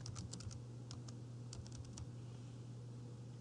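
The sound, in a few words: typing on computer keyboard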